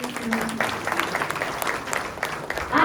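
Audience applause at an award ceremony honouring a spiritual speaker, a steady wash of clapping through the whole stretch, swelling louder at the end, with a voice faintly audible underneath.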